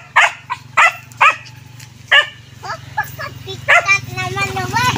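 A dog barks in several sharp, close bursts while people talk over and between the barks, with a low background rumble throughout.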